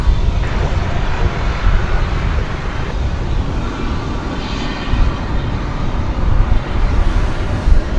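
An American Airlines Boeing 737-800 arrives at DFW Airport, its engines a steady, loud broadband roar that holds level throughout with faint traffic-like rumble beneath.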